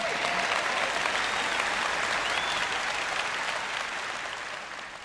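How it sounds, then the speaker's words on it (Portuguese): An audience claps steadily throughout a church service, a dense, loud wash of applause that holds for several seconds and then eases slightly toward the end. "Eu sei que estão mais animados do que esse aplauso."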